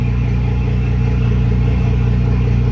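A boat's inboard engine, cooled by water cycling through it, idles in a loud, steady, even drone with a regular low pulsing, close and alone.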